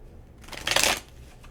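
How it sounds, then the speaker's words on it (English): Tarot cards shuffled close by in one short riffling burst that swells to a crisp, papery flurry, then settles into quiet rustling. "I'm just going to shuffle the cards and see what flies out."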